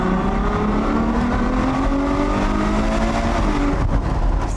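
A 2021 Ferrari 812 GTS engine drones loudly and steadily from inside the cabin with the top up and windows down, its pitch rising gradually in a smooth, continuous pull.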